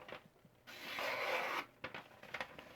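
A Mcusta MC-0125D folding knife blade from Seki, Japan pushed through material in a smooth slicing stroke, a soft, sustained rasping rub lasting about a second, with faint scraping and handling noises on either side.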